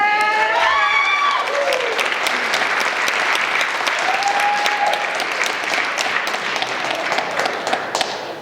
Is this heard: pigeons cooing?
no